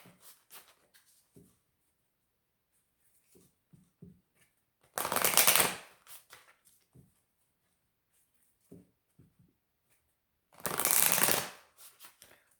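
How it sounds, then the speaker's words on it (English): A deck of Moonology oracle cards is shuffled in two brief, crisp riffling bursts, close and clear, separated by quiet stretches of soft handling clicks and taps. "I'm going to pull some energies from the Moonology deck"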